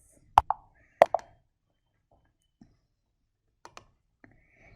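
Sparse clicks and taps from a computer keyboard and mouse while building a molecular model in a lab software demo: a few sharp, close clicks early on, then fainter scattered taps with quiet gaps between them.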